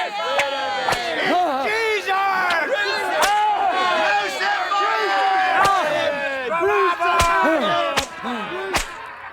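A frenzied crowd roars and shouts in a continuous uproar of many overlapping voices, loud and close, broken by sharp lashing cracks.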